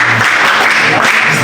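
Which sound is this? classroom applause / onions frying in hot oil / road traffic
classroom applause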